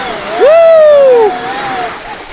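An Eride Pro SR electric bike plows through a creek with a loud, sustained rush of splashing water, and a rising whoop from the rider cuts over the spray.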